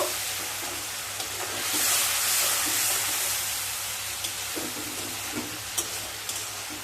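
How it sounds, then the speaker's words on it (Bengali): Spices with a splash of water cooking on low heat in a pan for a paneer and pointed gourd dish, a soft steady sizzle and hiss with occasional stirring scrapes, no talking. "এবার লো স্টিমে মশলাগুলোকে খুব ভালোভাবে কষিয়ে নেবো"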